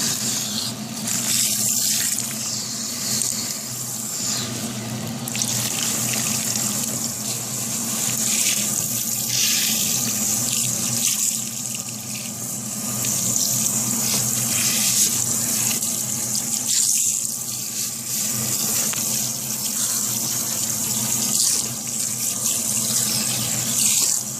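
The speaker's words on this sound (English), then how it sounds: "Same thing, rinse, making sure my water is on cool" A faucet runs steadily into a sink, water splashing and gushing continuously nearby with small shifts as a shampooed wig is rinsed under the stream.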